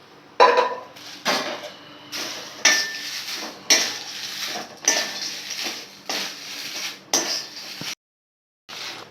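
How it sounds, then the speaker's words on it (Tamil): Dried red chillies are roasted in a little oil in a pan, with a spoon scraping and clanking against the metal in regular strokes and brief pauses in between. No one speaks. "பாருங்க மிளகாய் நல்லா வறுத்தாச்சு ரெண்டு படி மிளகாய் இல்லையா"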